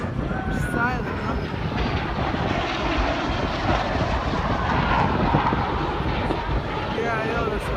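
Jet aircraft at the Miami Air Show roar steadily in a broad, rumbling wash, loud and continuous, with outdoor crowd noise and occasional nearby voices.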